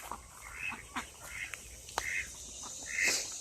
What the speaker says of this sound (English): Oh, I know. Quack.